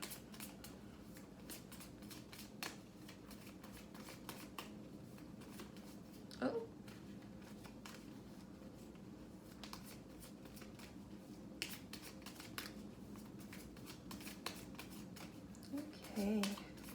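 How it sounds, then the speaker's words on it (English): Tarot cards shuffled by hand in a quiet indoor setting, a soft, continuous riffling and sliding of cards with a few louder bursts, close to the microphone, with a brief spoken exclamation. "Let me go ahead and give you guys a little shuffle."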